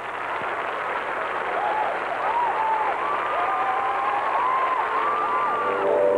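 Figure skater Scott takes the ice at the 1984 Winter Olympics as a large arena crowd cheers and applauds in a dense, continuous roar that swells slightly, with scattered higher voices calling out over it.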